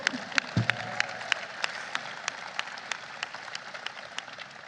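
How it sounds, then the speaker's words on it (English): Audience applause during a speech celebrating the Inflation Reduction Act at the White House, a moderate steady patter of clapping with sharp individual claps standing out, a brief low thump early on. "round of applause for that."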